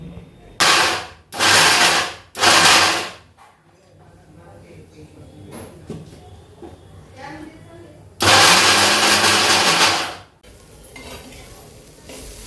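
A kitchen mixer grinder blends dried bombil fish chutney in several loud bursts, three short runs followed by a longer one, with quiet kitchen handling between them.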